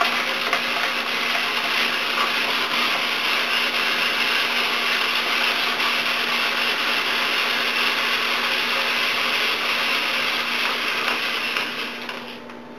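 A hand-turned coring tool twists into an onion with a steady, continuous grinding whir that holds at an even level, then fades at the end.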